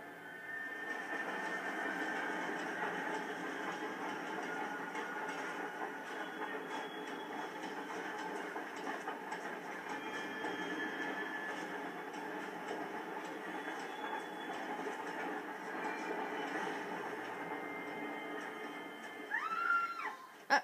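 A steady, loud rumble and clatter of a passing train in the 1940s Los Angeles crime game L.A. Noire on Xbox 360, a continuous wash of noise that holds for the full length with a brief louder burst near the end.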